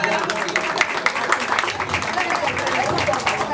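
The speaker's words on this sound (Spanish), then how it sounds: "Fuerte el aplauso" Crowd applause at a campaign office inauguration for a candidate. Dense, loud clapping runs throughout, mixed with crowd noise and voices speaking over it.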